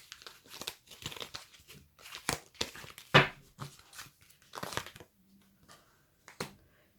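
Oracle cards shuffled and drawn by hand for an Aquarius relationship reading, giving close, quiet bursts of crinkling, flicking and snapping paper with pauses between handlings and no talk.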